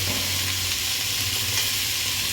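Cauliflower pieces go into potatoes frying in oil, a loud, dense, steady sizzle filling the space close up, with no talking.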